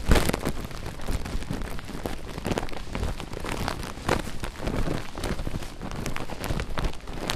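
Steady rain falling in the mountains, a dense close patter on surfaces with irregular heavier drops and gusty swells, continuous and fairly loud with no voices.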